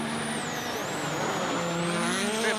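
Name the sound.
Hyundai rally car driving a stage at Rally Sweden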